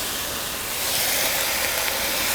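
Bell peppers and broccoli sizzle and steam in a stir-fry pan, a steady, loud hiss that swells slightly and holds without pause.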